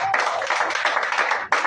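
A church congregation claps rapidly and steadily in a dense burst of applause, close and lively, with a brief pause near the end before resuming.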